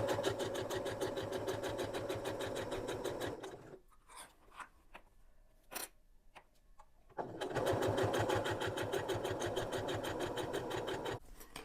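A sewing machine stitches along the edge of a fabric lanyard in a fast, steady mechanical rhythm, pausing for a few seconds of faint handling clicks before the needle runs resume, close and alone.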